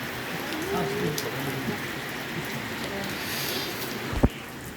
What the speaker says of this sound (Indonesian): Kita kehujanan.